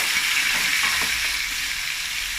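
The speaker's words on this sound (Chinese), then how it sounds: "我们倒料酒，去下腥" Cooking wine poured into a hot pan of pork belly already fried golden on both sides sets off a loud, steady sizzle and hiss that holds close and unbroken throughout, with no talking.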